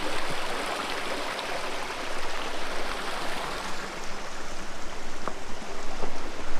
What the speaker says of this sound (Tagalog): So, may ilog.